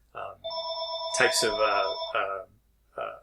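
A telephone rings with bright, repeating electronic tones, with a lecturer speaking over and between the rings in a classroom setting.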